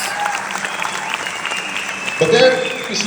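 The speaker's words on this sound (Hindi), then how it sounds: "जोरदार तालियां इस बात पर" Audience applause at a talk on the direct selling industry: a dense, steady wash of many hands clapping for about three seconds, swelling slightly near the end, with a voice faintly underneath.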